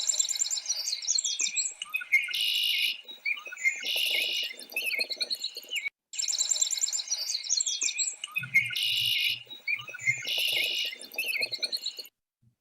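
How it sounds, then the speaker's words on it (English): Red-winged blackbird calls ring out in repeated shrill bursts of chattering trills and buzzy notes, fairly close and clear over a quiet spring outdoor background. "you hear the shrill of the red-winged blackbird reminding us that spring has arrived"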